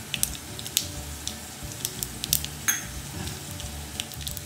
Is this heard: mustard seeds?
yes